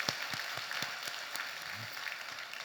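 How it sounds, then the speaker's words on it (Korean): A church congregation claps during a worship service, a steady wash of applause with occasional sharper hand claps, moderately loud and continuous throughout. "하나님께 영광의 박수 올려드리겠습니다"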